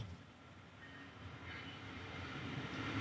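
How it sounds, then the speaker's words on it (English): A train rolls past near a garage where a Porsche is being worked on, a steady low rumble with faint wheel and rail noise holding at constant loudness for the whole stretch, no voices. "Train go by."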